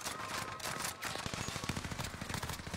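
Rapid rifle fire crackles in a video game, bursts of sharp repeated shots in a fast rhythm, fairly loud and dense over a noisy battlefield background.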